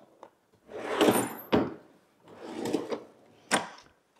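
Wooden drawers in a woodshop's Craftsman storage cabinet slide open and shut, with two long rumbling slides and sharp thunks as they stop, close and clear against quiet.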